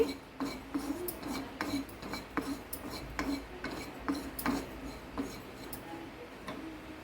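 Cumin seeds frying in a pan while making instant Guntur curry masala powder, with a steady faint rasp and scraping broken by light clinks and ticks of a spatula against the pan, no talking.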